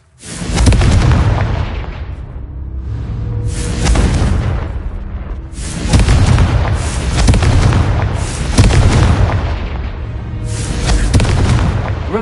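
Confringo spell blasts in Hogwarts Legacy on PS4 boom again and again, loud and dense, with rolling explosive bursts layered over a continuous rumble and no pauses.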